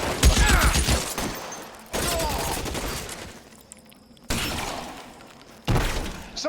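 Gunfire in the video game LA Noire: bursts of loud, close shots and rattling volleys in three or four clusters, with shattering debris between them and brief quieter gaps.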